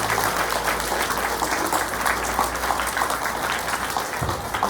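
Students at a primary school assembly receive a round of applause, a sustained, loud wash of many hands clapping together from a large group, holding steady throughout.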